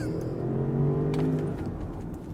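A 2023 Land Rover Range Rover P530, a 523-horsepower SUV, launching at full throttle: a loud, steady engine roar with rising harmonics as it pulls away, continuous and close for the whole stretch.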